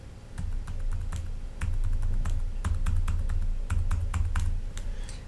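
Fingers tap out a credit card number on a computer keyboard, producing a steady stream of close, crisp key clicks with small pauses between groups of digits.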